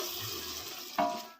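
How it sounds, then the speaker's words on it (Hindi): Water is poured into a pot of browned meat for Afghani pulao, a steady frying hiss that gives way to a sudden louder gush and sizzle partway through. "अब मैं इसमें डालूँगा चावलों के हिसाब से पानी।"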